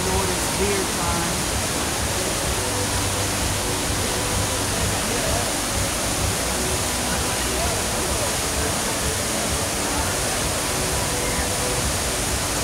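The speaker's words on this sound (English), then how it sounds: "that's enough waterfall" Waterfall on a walk near the MSG Sphere in Las Vegas, a loud, constant broadband roar of falling water that fills the whole stretch without pause, with faint voices barely showing underneath.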